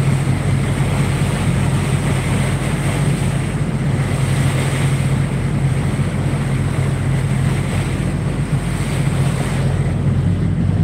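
Steady rushing wind buffets the microphone over the churn of sea waves on the Anadyr estuary in Chukotka at ebb tide, with a constant low rumble of a boat underneath, no voices.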